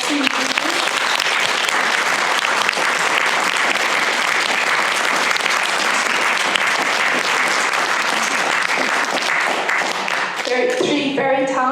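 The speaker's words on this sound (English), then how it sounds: "Can we have a big round of applause," An afternoon literary showcase audience gives sustained, dense applause for three fiction readers, loud and steady for about ten seconds before tapering, with a voice speaking briefly near the end.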